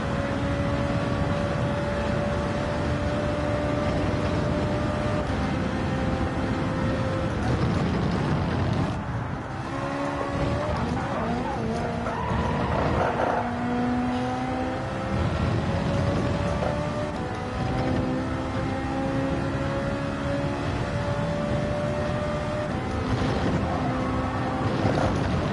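A GT4-class race car engine in the Gran Turismo 7 racing game drones steadily and loudly throughout, its pitch stepping and sliding with gear changes, including downshifts, and a brief dip near the middle.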